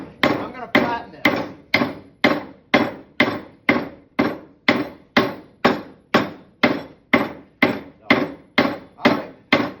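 Stainless steel round rod about 1/8 inch in diameter being hammered flat, about twenty sharp metallic strikes in a steady, even rhythm, each ringing briefly before the next blow.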